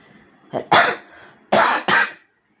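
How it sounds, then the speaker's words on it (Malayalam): An adult coughs four times at close range, in two pairs of harsh, chesty bursts about a second apart, indoors with no other sound. "ചുമ അങ്ങോട്ട് മാറിയിട്ടില്ല കേട്ടോ"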